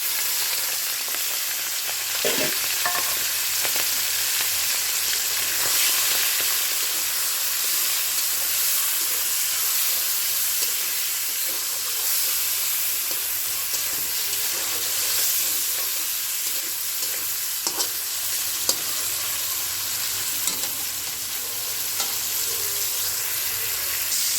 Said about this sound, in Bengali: তেলটা গরম হলে চিংড়ি মাছ দিব তেলের উপরে চিংড়ি মাছটা দিব যাতে চিংড়ি মাছটা একটু লাল রং ধারণ করে